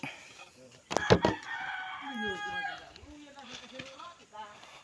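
A rooster in a rural village yard lets out a loud, close crow, followed by chickens clucking in short, uneven bursts, with faint voices in the background.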